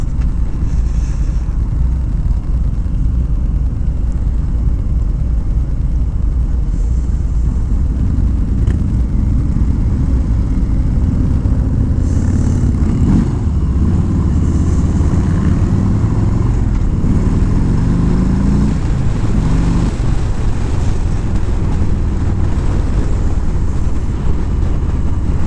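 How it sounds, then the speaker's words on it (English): A 2018 Harley-Davidson Street Bob motorcycle rumbles loud and close throughout a ride, its engine note steady with a few rising and falling throttle sweeps, no talking over it. "That's kind of a fun bike to ride."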